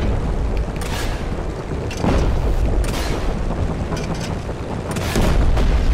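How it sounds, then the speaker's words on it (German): Explosions in the video game Just Cause 3: several heavy booms strike at intervals over a continuous low roar, each a loud, sharp blast that tails off into rumble, with no voices heard. "da ist was in die Luft gejagt"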